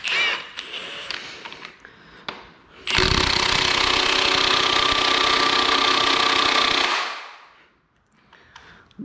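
Milwaukee power tool turning the crank bolt on a BMW M50 engine, running loud and steady for about four seconds, then spinning down, with brief clanks before and after.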